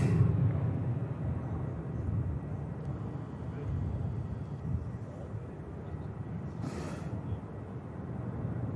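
A Saudia airliner taxiing at Manchester Airport gives a continuous low, distant engine rumble that holds steady throughout, with a faint higher whoosh near the end.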